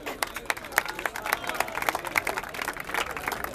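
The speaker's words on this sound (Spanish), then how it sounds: "¡Fuerte aplauso!" A crowd at a freestyle rap battle in Santa Fe claps in scattered, distant bursts, sharp individual claps over a low murmur of the gathered audience.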